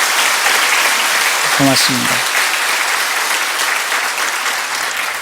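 Audience members at a church gathering applaud guests from a Russian seminary, loud continuous clapping throughout with a short spoken thanks breaking through near the middle.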